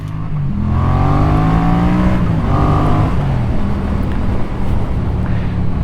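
A Honda CB650R or Yamaha MT-07 motorcycle engine roars loudly close by during a braking test, its pitch dropping and then rising again as it revs.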